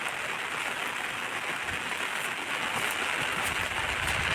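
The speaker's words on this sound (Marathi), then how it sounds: "तो पाऊस पडता अजून" Rain falls steadily in a Konkan forest during the monsoon, a dense, even hiss of drops on leaves and ground that continues unbroken with no voices.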